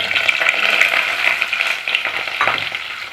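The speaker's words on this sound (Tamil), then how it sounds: "இப்போ நம்ம வெந்தயத்தை சேர்த்துப்போம். இது கூடவே நம்ம சின்ன வெங்காயத்தை சேர்த்துப்போம்." Shallots and fenugreek seeds sizzling in hot oil for tiffin sambar, a loud, steady crackling fry close up with a few stirring scrapes toward the end.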